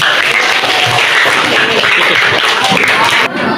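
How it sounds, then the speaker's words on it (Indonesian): Applause from a class audience for a student group presenting on the early preaching of the Prophet Muhammad in Mecca, a steady dense clatter of many hands filling the clip before cutting off near the end. "tepuk tangan untuk kelompok"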